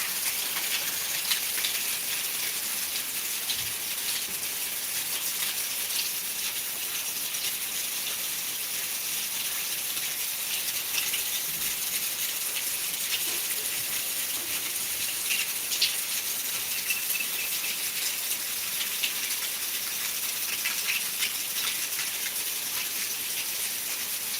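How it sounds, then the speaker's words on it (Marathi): Heavy monsoon rain pours steadily in Beed, a dense, even hiss of downpour on roads and surfaces lasting throughout, with no voices. "त्यामध्ये पुन्हा एवढा जोराचा पाऊस"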